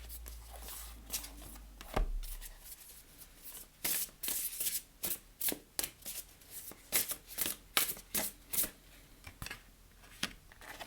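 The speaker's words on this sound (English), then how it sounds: "let's pull you an oracle card and see what the advice is from the oracle." Oracle cards being shuffled by hand during a card reading: a run of crisp, rhythmic riffling strokes repeating steadily and close up, with no talking over them.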